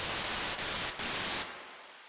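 A loud, flat burst of white-noise hiss from an Omnisphere synthesizer, briefly dipping twice, then dropping off to quieter residual noise.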